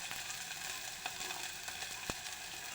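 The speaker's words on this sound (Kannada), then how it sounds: "ಈಗ ಇವೆಲ್ಲ ಚಲೋತ್ತಾಗಿ ಫ್ರೈ ಮಾಡ್ಕೋಬೇಕು." Onions and green chillies fry in a pan with a steady, soft crackling sizzle throughout, plus an occasional faint tap of stirring.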